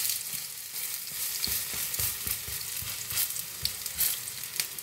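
Okra fritters frying in a hot pan of oil, a loud continuous sizzle with repeated close scraping and stirring clicks, heard alone without voices.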